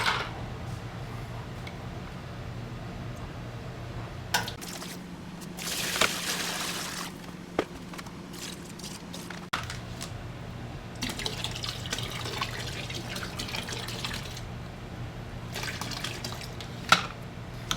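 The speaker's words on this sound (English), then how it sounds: "So I'm going to drain this out." Liquid degreaser draining out of a parts-cleaning tub after engine heads were cleaned, a steady running and trickling water sound with occasional splashes and drips, fairly quiet and continuous with no talking.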